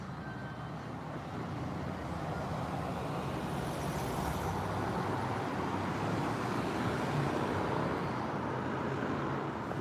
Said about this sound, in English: Do you hear the engine sounds?